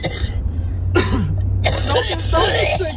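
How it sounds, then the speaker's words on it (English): Two or three sharp coughs burst out close by from someone riding along in a vehicle on sandy dirt trails in Interlachen, Florida, over steady engine and road rumble, with talking around them. "You keep coughing like that, I'm gonna have to go back with Siri."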